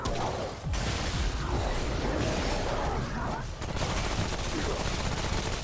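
Heavy, continuous gunfire in the video game Remnant: From The Ashes: dense, loud shots overlapping without a break, mixed with mechanical clatter and a voice talking over the shooting.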